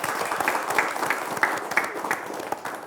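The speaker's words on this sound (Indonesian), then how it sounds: "Boleh kita berikan tepuk tangan yang paling meriah." A studio audience applauds steadily for songket weavers from Ulak Kembahang village at a South Sumatra television broadcast, a dense, even patter of many hands clapping close and loud for a few seconds without speech.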